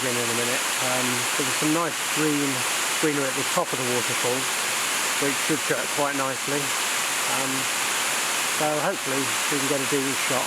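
A waterfall flowing down rock in Wales sends a steady broadband rush of water through the whole scene, with someone speaking over it nearby.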